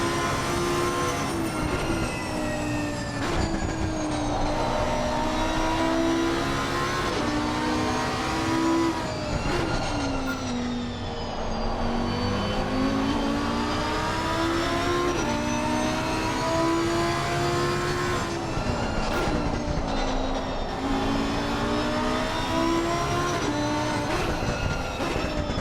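A race car on its opening lap at Brands Hatch in the ACC racing game revs loudly and continuously, its engine pitch rising and falling through gear changes and corners, with no voices over it.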